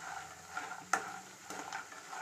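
Makhana (fox nuts) lightly frying in a pan, a soft sizzle under quiet stirring, with one sharp scrape or knock of the spoon against the pan and a few fainter ones, close and without talking.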